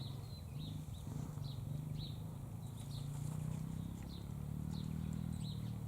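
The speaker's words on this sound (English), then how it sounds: "I can hear a person on a motorbike, a kid on a motorbike." A kid's motorbike drones steadily in the distance, a low continuous engine hum swelling slightly, while cockatoos and other birds chirp intermittently above it.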